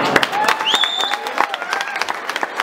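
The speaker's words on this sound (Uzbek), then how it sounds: "durduroz qarsaklar ayamaysizlar" Wedding guests in Orenburg break into dense, continuous applause close by, with a thin melodic tone and faint voices weaving over the clapping.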